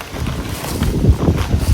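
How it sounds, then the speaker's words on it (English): Gusty wind buffets the microphone in low rumbling bursts outdoors in a garden, rising and falling without pause. "It's a very windy day today."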